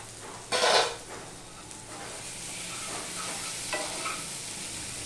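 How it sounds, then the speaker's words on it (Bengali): Ghugni with ginger paste and boiled potato sizzles steadily in a pan while a spoon stirs it, with a louder scraping burst near the start over a constant frying hiss. "সম্পূর্ণটা আমি মিশিয়ে দিলাম, দিয়ে একটুখানি কষিয়ে নেব"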